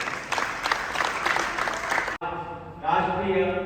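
Applause greets the school principal at a national youth parliament event in Diu: a burst of crowd clapping for about two seconds, then an abrupt cut to a voice speaking with a faint hum beneath.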